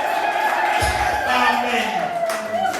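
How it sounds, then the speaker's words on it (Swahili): A church congregation at an ordination ceremony cheers and ululates, with sustained high trilling voices over the broad noise of the crowd, loud and steady throughout. "Shangwe na vigelegele."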